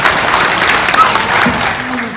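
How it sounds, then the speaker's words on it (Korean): Applause from wedding guests at a Korean ceremony, a dense broadband patter that holds steady for about two seconds, with faint voices mixed in. "여러분 큰 박수 부탁드리겠습니다."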